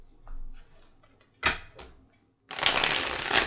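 Tarot cards being shuffled during a reading, heard as a short riffle burst followed by a sustained, close, brisk rustling of cards, with no talk.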